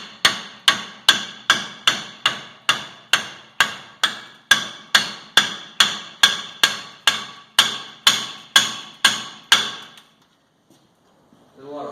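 Hammer blows on rusty rear brake rotors of a Ford F250 Super Duty 4x4, about twenty sharp metallic clanks in a steady, fast rhythm, loud and close, then silence.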